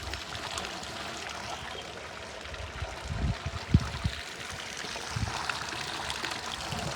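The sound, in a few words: water flowing into slurry tank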